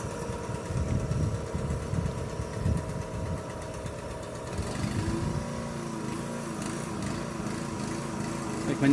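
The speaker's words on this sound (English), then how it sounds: "My neighbors David and Debbie are testing out their portable generator across the way." A portable generator runs across the way outdoors, a steady mid-level engine drone with a rough, buzzing tone that shifts and thickens partway through, continuing without break.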